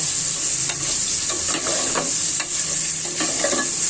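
Katla fish frying in hot oil in a pot gives a steady, close sizzling hiss with scattered crackles and pops throughout, and no one speaks.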